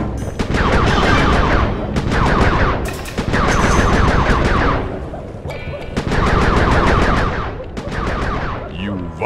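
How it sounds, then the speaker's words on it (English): Fireworks fired in the video game Sly 3, rapid crackling bursts in loud repeated volleys with brief gaps between them, close and dense, with a short voice near the end. "Be careful with those fireworks, Panda King."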